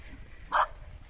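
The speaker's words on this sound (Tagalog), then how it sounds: "Ayan, cute ng aso, tataba." A single short dog bark, fairly close, rings out on a farmlot at a house amid quiet outdoor background.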